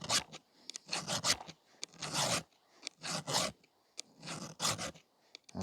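Steel file rasping across a used chainsaw chain held at the wrong angle, close and loud, in repeated bursts of strokes with short pauses between them and no voices.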